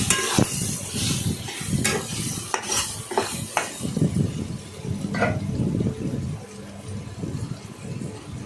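Potatoes fry with turmeric in a pan, a soft sizzle under repeated scraping and stirring of a spatula against metal, close and moderately loud, with irregular clanks from the utensil.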